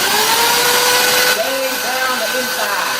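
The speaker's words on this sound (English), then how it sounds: "So he's taking a drill to shave the inside of it." A power drill shaving material from the inside of a part, a loud continuous whine with shifting pitch as it cuts, running steadily throughout.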